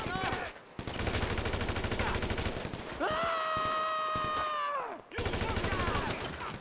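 Sustained automatic gunfire in GTA 5, dense rapid bursts filling most of the stretch, broken by a short pause with a loud rising and falling tonal whine, then the shooting resumes.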